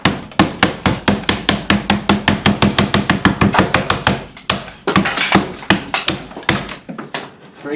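Old plaster is broken off a wall during kitchen demolition in a rapid run of loud, sharp hammer blows and thuds, with a brief pause and then more strikes.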